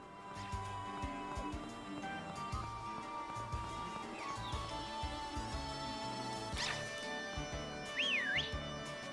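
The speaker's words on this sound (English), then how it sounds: "That's the whistle." Whistle tones in Pokemon Sword and Shield rise and bend over busy game music, with a clear sliding whistle near the end.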